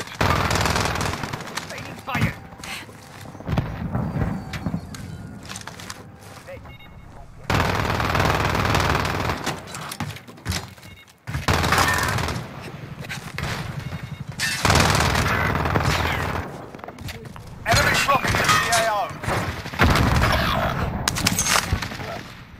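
Heavy automatic gunfire and scattered shots rattle through Warzone gameplay on Rebirth Island, loud bursts in waves broken by brief pauses, with game voice callouts mixed in.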